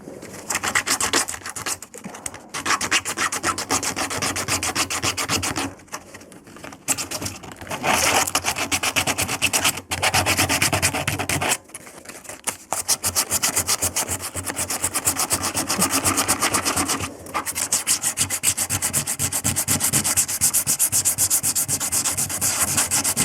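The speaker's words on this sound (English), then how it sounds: "Right, so I've just finished giving it a rub down with a" Hand sanding on a Lotus Excel bumper: rapid rhythmic back-and-forth rasping strokes, close and loud, with a few short pauses between bursts.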